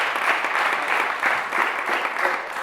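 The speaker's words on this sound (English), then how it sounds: "big round of applause" An audience at a startup interview event in Gothenburg gives a round of applause, a steady, moderately loud wash of clapping hands with gentle swells, no speech over it.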